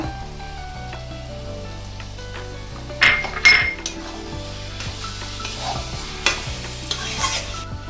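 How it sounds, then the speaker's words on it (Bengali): Chicken and eggplant being stirred in a pan with green chillies and coriander, steady scraping strokes and metal clinks over a low sizzle, with a few louder utensil knocks midway. "কাঁচা লঙ্কা ধনেপাতা দিয়ে ভালো করে মিশিয়ে নিচ্ছি।"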